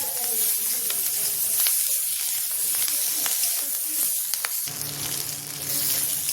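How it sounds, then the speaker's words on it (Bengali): Onion frying in a pan with Kashmiri chilli powder and cumin powder for paneer chilli gives a steady, close sizzle with broad hissing. A brief stir or clatter comes partway through, and the crackle then drops to a lower, even fry. "এখানে পেঁয়াজটা ভাজা হয়ে গেছে"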